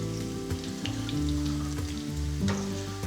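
Chips fry in hot oil in a steady, close crackle and sizzle, with dense popping bubbles and faint tonal hum beneath.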